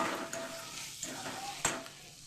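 Onion, tomato and finely chopped chili sizzle in a pan while a spoon stirs and scrapes, soft steady frying with occasional clinks of metal against the pan.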